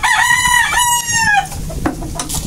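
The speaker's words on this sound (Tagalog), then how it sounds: "Manok kasi." A rooster crows once loudly and close by, its long call falling away at the end, followed by faint outdoor background noise.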